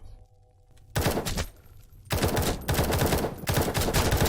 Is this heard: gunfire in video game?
yes